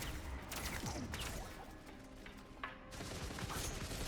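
Rapid bursts of gunfire from the video game Risk of Rain 2 rattle steadily through the whole stretch, layered with other combat effects and no talking.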